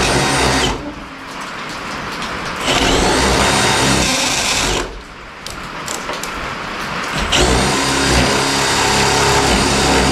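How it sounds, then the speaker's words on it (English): A power drill bores a hole for black iron propane pipe in an off-grid tiny house pole barn, whining in three loud sustained bursts separated by short pauses. "we're gonna drill a hole"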